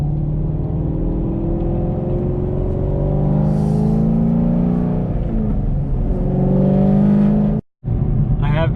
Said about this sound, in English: we're in the Camaro. We're driving there now.